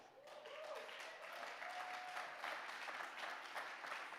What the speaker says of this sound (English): that one there I allowed you to clap